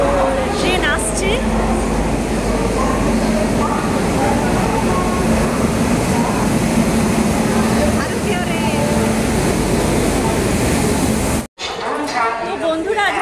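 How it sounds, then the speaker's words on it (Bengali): A train pulls into a station on a trip toward Kolkata, a loud sustained rumble with a steady hum and squealing metallic tones, close by, ending abruptly. "তো ট্রেন আসছে।"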